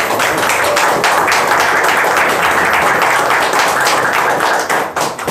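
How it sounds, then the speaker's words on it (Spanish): Wedding guests at a ceremony in Santa Rosa break into loud, sustained applause, dense clapping from a close crowd that tapers slightly near the end. "Muy bien, un aplauso."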